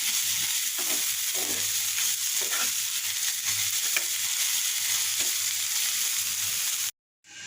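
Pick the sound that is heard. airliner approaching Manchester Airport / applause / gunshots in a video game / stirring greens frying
stirring greens frying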